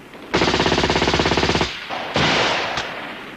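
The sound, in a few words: gunfire from tanks and infantry, war film sound effect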